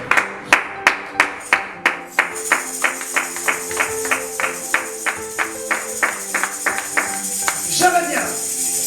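A church congregation claps in a steady, even rhythm of sharp hand claps, fairly close, with voices carrying over the beat and a busier burst near the end.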